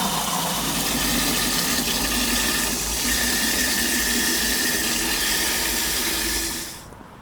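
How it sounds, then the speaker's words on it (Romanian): Water gushing steadily from a tap at a Circle K station into plastic water containers of 8 and 10 litres, a loud continuous rush that cuts off abruptly near the end, with no talking. "urmează să facem și plinul la apă"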